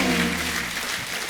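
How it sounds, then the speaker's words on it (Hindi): A studio audience applauds for John, Mrunal and Ravi on a comedy show, with a short burst of crowd clapping over fading background music. "एक बार जॉन, मृणाल और रवि भाई के लिए जोरदार तालियां।"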